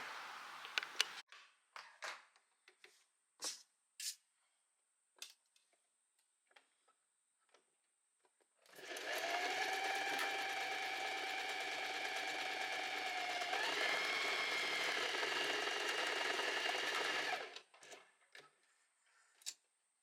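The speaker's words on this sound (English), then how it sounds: "now we're going to sew from here to down here" A domestic sewing machine stitches linen shorts pockets in one steady run of about nine seconds, a close, even whirring hum. Scattered clicks and handling taps come before and after it.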